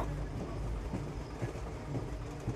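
A train rolling along rails, a steady low rumble with faint rhythmic clickety-clack as the carriages pass over joints, continuous and fairly close with no voices.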